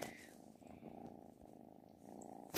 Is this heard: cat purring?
yes